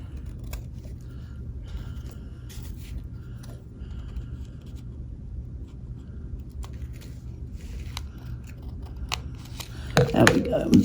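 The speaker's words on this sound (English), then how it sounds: "Next, I take a pair of scissors." Scissors trim the edge of a vellum Christmas card, with quiet steady snipping and paper rustle close by and a louder crisp burst of cutting near the end.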